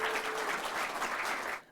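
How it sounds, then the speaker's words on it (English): An audience at a morning presentation event in Fredericton claps to welcome a Member of Parliament to the stage, a steady, moderately distant round of applause that cuts off abruptly at the end. "So please come to the stage. Please applaud for Jenica Atwin."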